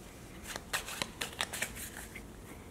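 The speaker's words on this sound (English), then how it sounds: "I want you to shuffle them" Playing cards riffled and shuffled up close, a quick run of crisp flapping snaps, fairly quiet with no talking.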